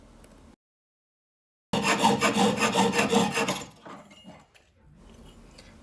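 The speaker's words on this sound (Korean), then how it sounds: "계산식에 맞춰 그린 원형을 톱질을 이용해서 잘라줍니다." A burst of rough, rhythmic rasping strokes from hand-sawing a 1.2 mm red copper sheet, close and loud, between quieter stretches with a silent gap before it.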